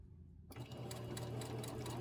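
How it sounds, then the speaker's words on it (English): A sewing machine stitching a reverse stitch on a quilt starts up after a brief quiet moment and runs in a fast, steady, close mechanical whir with a rapid needle patter, no voices. "It's a reverse stitch. So it reverses the stitch and goes forward."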